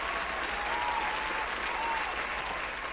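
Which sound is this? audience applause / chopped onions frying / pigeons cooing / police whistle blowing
audience applause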